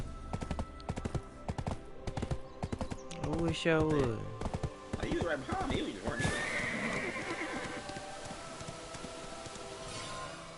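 A horse in an online video game gives a loud whinny midway, with clip-clop hoofbeats scattered around it, while people talk over much of the scene.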